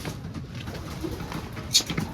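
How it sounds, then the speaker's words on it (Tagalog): Soft, low cooing of pigeons murmurs on and off close by, with a faint rustle and a brief bright chirp near the end. "Kalapate yan"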